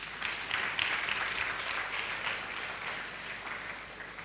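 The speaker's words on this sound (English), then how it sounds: "Yet another round of applause" An audience at a memorial lecture applauds an administrative bishop in a hall. The clapping is steady and moderately distant, a dense patter that fades slightly toward the end.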